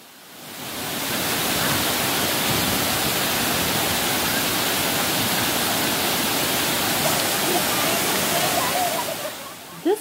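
A waterfall and flowing river in dense forest at Thiruparappu, Kanyakumari, roar as a constant broadband rush of water that swells in after a quiet start and stays loud and steady throughout.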